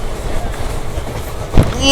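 The Kushtagi Express, a small daily train from Gadag Junction, rolls along with a close, continuous rumble and rattle of carriages, heard briefly from on board or nearby.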